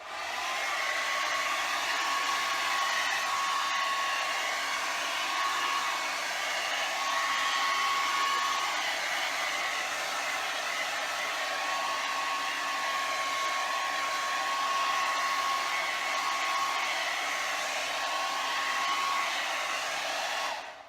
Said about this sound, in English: I'm going to hit it with the hair dryer real quick.